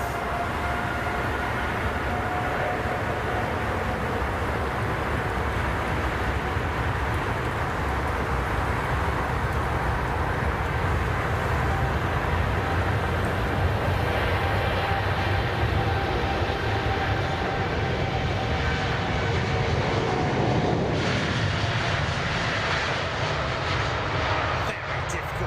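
A jet airliner rolls past on runway 27R at London Heathrow at over 100 knots, its engines making a loud, continuous roar that builds slightly and then eases over about twenty-five seconds, with talk underneath.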